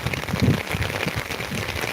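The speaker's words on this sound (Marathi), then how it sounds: "असा जोराचा पाऊस आता आलेला आहे" Downpour over waterlogged fields in Beed, a thick, constant patter of heavy raindrops close by, with some low, uneven thuds mixed in.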